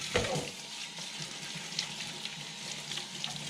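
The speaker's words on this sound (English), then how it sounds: "We can rinse our parts." Tap water runs steadily while CPAP equipment parts are rinsed, a continuous splashing hiss with a brief louder burst at the start.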